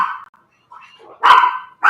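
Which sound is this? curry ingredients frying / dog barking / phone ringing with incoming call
dog barking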